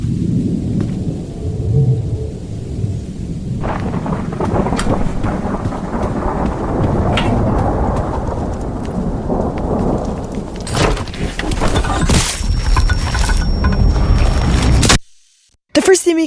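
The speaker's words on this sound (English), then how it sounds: "there's a lot of thunder, there's a lot of rain, and there's a lot of wind" Leaked audio from the horror game DOORS: loud rolling thunder over heavy rain and gusting wind, with cracking rumbles building toward the end before an abrupt cutoff.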